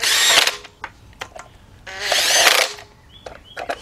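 A power tool with a 10 mm deep socket tightens three bolts during engine removal work on a 2006 Kia Sportage 2.7 V6. There are two loud, sustained whirring bursts separated by short clicks and brief ratcheting taps, and no talk.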